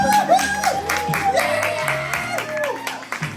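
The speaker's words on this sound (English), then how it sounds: "Everybody clap your hands." Audience clapping along at a live music show, steady rhythmic claps mixed with cheering and a singing voice over backing music.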